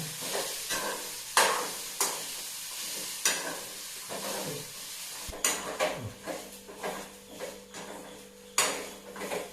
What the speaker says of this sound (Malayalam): ഈ തേങ്ങയൊക്കെ ഒന്ന് വെന്തൊരു മണം വരുന്നവരെ ഒന്ന് മുപ്പിച്ചെടുക്കാം